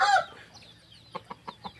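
Young rooster, a newly brought-in green-feathered cockerel, gives a short burst of call, then a quiet pause and four evenly spaced soft clucks close by, with no talk.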